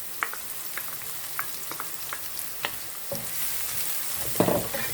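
Chopped garlic, about a tablespoon, sizzles and fries steadily in a pan for tacos, with a few sharp clicks and stirring knocks over the continuous crackle and a brief louder scrape near the end.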